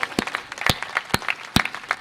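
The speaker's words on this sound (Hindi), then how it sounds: "एक बार पूरा सदन तालियां बजा दे" A small audience at a comic poetry gathering claps unevenly, with sharp, scattered hand claps in an irregular rhythm, fairly close.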